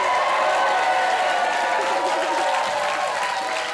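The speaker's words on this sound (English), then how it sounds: "give Vicky a round of applause" Loud, dense applause and some cheering from an audience for a performer named Vicky, continuous and close, fading slightly toward the end.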